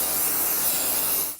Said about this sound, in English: It's time to spray away.